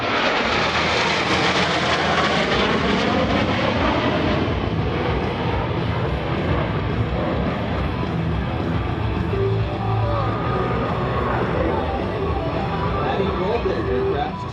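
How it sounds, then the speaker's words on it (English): US Navy Blue Angels jets 5 and 6 approaching the flight line at about 400 mph at the Millville Wheels and Wings airshow, a loud, sustained jet roar that fills the whole stretch with a broad rushing sweep. "Blue Angels 5 and 6 are approaching the flight line at 400 miles per hour."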